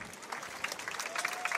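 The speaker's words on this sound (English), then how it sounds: "crowd is cheering for all the fighters." Crowd at the IMCF 2017 medieval combat event in Sweden applauding and cheering for the fighters, a dense steady roar of clapping over the whole short stretch.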